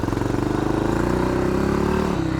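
A Yamaha XT500 single-cylinder motorcycle engine runs loud and close at full throttle, with a rapid, even thumping pulse that holds steady and then dips near the end.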